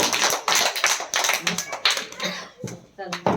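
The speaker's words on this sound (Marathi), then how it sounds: "टाळ्या वाजवा सानवीसाठी" Children in a classroom lesson clap for a classmate in quick, uneven bursts of sharp hand claps, close and loud, with small voices chattering between them.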